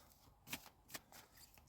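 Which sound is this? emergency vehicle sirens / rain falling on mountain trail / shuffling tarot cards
shuffling tarot cards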